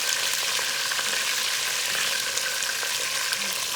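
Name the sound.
potatoes frying in a pan for chicken biryani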